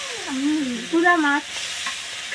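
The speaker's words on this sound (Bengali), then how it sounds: "আর দেখো মা রান্না করছে এখানে। কি রান্না করছো তুমি? মাছ" Fish frying in a home kitchen pan gives a soft, steady hiss, while a voice talks briefly over it in the middle before the sizzle carries on alone.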